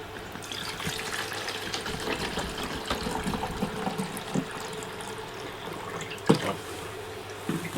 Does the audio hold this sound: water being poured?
yes